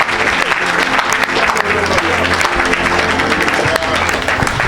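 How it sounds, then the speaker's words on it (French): Church congregation at a mission meeting clapping hands continuously, a thick, even wash of applause with voices mixed in underneath. "Clap your hands for Jesus."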